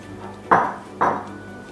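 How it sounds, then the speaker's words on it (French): Flour and baking powder are mixed in a bowl for madeleines, heard as two distinct clinks of a utensil against the bowl about half a second apart, close and clear, with no talking. "Donc on mélange bien ensemble les deux pour que ce soit bien régulier dans la recette."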